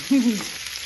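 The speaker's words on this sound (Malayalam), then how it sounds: "ഇനി ഇതിൻ്റെ അകത്തോട്ട് സവാള ഇടാം പൊട്ടലും ചീറ്റലും എല്ലാം ഉണ്ട്" Onions go into hot oil with browned coconut pieces for a chicken stir-fry, giving a steady close sizzle and a brief sputtering burst.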